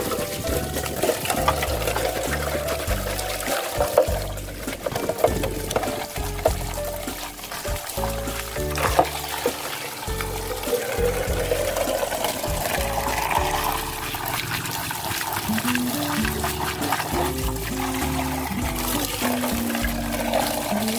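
Running water splashes steadily while aquarium filter parts from a polypterus tank are washed, a continuous wash of water under a prominent musical background with no speech.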